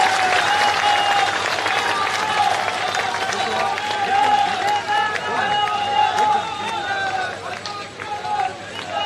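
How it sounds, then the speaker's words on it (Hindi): A crowd at an outdoor statue unveiling and building inauguration ceremony applauds to welcome Ashok Gehlot, loud sustained clapping mixed with crowd noise, with a voice talking over it throughout. "जोरदार तालियों के साथ स्वागत कीजिएगा"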